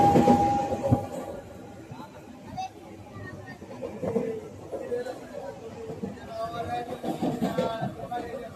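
A train runs on its rails with a low rumble and intermittent clatter, while people talk and chatter nearby over the rolling noise.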